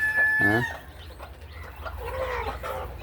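Chickens cluck and a rooster crows nearby, with short bursts of fowl calls over a steady outdoor background.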